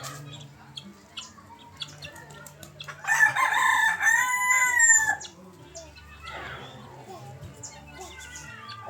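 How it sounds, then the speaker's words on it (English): A rooster crows outdoors in a single loud, drawn-out call lasting about two seconds, with quieter ambient yard sounds and faint voices before and after. "that's a rooster"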